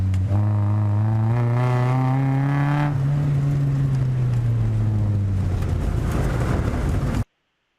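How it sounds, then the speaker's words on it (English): A car on a wet autocross course drones steadily through a corner at high revs, the engine pitch dipping as it snaps into oversteer, with tyre hiss and wind noise, loud and close, cutting off abruptly. "Watch him go around this corner, and here it comes up ahead."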